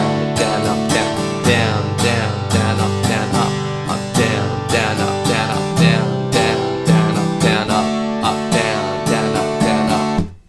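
Acoustic guitar strumming the verse chords of a song, with steady down-up strokes in a loud, close, continuous rhythm that rings out at the end.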